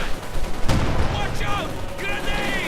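Gunfire and a rifle grenade from Panzer Grenadiers in a World War II real-time strategy game battle, a sharp blast near the middle followed by scattered shots, heard under a caster's commentary.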